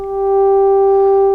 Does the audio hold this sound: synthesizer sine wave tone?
yes